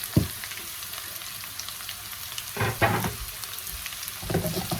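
Potatoes and onions fry in a pan with a steady close sizzle, broken by a few brief clattering stirs and scrapes.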